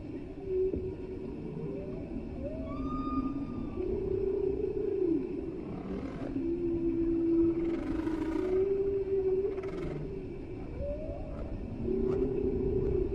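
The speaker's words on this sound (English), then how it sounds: "These are the songs of humpback whales." Long, low moaning calls and rising whoops of humpback whale song echo underwater, overlapping in a slow chorus with occasional higher squeals, no voices present.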